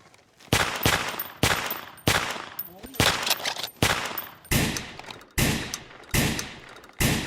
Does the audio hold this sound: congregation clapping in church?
no